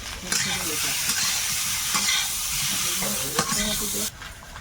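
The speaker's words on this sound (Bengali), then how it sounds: "আলুটা একদম লাল লাল ভাজা হচ্ছে" Steady crackling sizzle of potatoes frying in a pan, with occasional clinks of stirring; continuous and close, no voices.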